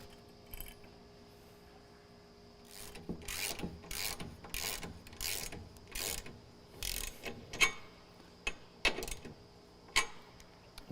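A ratchet clicks in short bursts while tightening a 14 mm lock nut on a fuel tank for a GM Duramax truck, close and crisp with quiet gaps between strokes.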